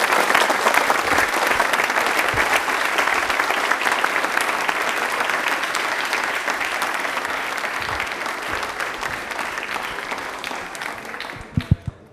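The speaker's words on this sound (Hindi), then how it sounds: "एक बार जोरदार तालियां हो जाए" A large studio audience at a televised quiz show claps loudly and steadily for about twelve seconds, the applause thinning out and stopping at the end.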